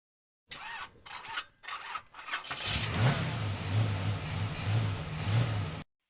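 An old car engine cranks in a few stuttering bursts, then catches and settles into a rough, steady idle with rhythmic rubbing or squealing pulses, close and moderately loud, ending abruptly.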